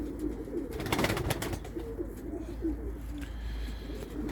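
Soft low pigeon coos repeat steadily in the background, with a brief burst of broadband rustling near the start.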